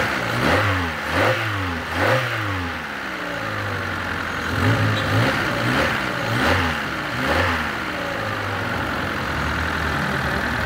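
Kia Pride 1.3 petrol engine, freshly rebuilt, idling and revving up repeatedly: several rising revs close by over a steady idle, loud and mechanical, with no talking.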